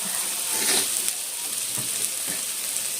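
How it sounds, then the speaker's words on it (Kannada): Onions frying in a pan for paneer kurma, a close, constant sizzle with faint stirring scrapes, with no voices. "ನೋಡಿ ಇವಾಗ ಈರುಳ್ಳಿ ಇಷ್ಟು ಫ್ರೈ ಆಗೈತೆ"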